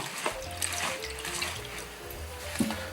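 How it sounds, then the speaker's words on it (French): Water being poured off rinsed red lentils in a kitchen, a steady close splashing and trickling drain with a brief louder splash near the end, no talking. "Allez, on enlève cette eau comme ceci."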